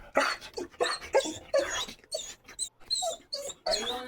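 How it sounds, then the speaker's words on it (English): An excited dog eager for a walk whimpers and whines close by in a rapid series of high, wavering cries broken by short gaps, loud and insistent throughout. "She is so excited to take a walk. But she's a really good dog."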